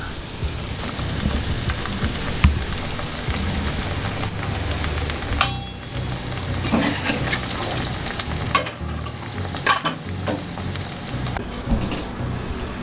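Crispy omelette eggs frying in hot oil in a pan, a dense continuous sizzle with scattered sharp crackles and stirring scrapes, close and steady with no talking.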